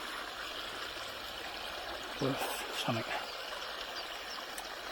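Fast river water rushing down a side chute over an apron, a steady broadband wash filling the whole clip, with brief bursts of nearby speech midway.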